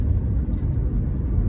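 A newly licensed driver's automatic car cruising slowly, under 30 km/h, along a quiet city road at night, giving a steady low engine and road rumble with constant loudness and no talk.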